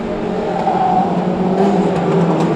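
Micro banger race car engine at Cowdenbeath Racewall, a steady loud droning roar with a rough, buzzy low hum holding level throughout.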